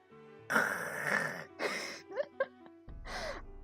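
A voice makes a series of harsh, throaty rattling chatters and gasps, imitating a cartoon platypus, in short bursts with pauses between, sounding like violent throat-clearing.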